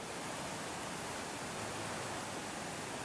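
A steady, dense roar of rushing water fills the whole stretch, loud and unbroken, from a river overflowing its banks in a barangay.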